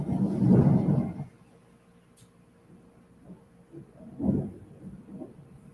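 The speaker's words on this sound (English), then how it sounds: "Thunder." A low, rumbling roll of thunder swells loudly at the start, fades, then returns as a softer second rumble a few seconds later.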